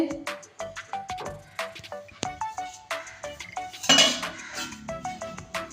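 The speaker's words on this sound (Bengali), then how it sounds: "এবার ঢাকনটা খুলে নিচ্ছি" A metal plate used as a lid is lifted off a pan holding a vegetarian flour cake, producing a string of close metallic clinks and scrapes with small ringing taps, one louder clatter midway.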